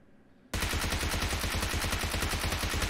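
Gunfire in the video game PUBG Mobile breaks out suddenly and runs in a continuous, loud, rapid automatic burst of closely spaced shots.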